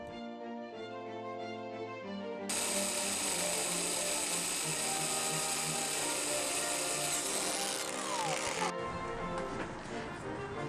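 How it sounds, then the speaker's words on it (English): A power drill with a 3/8 inch bit bores a hole through the front of a dollhouse, a steady high whine that starts after a quieter hum, runs several seconds, then cuts off. "Using a 3/8 inch drill bit, drill a hole from the front of the dollhouse."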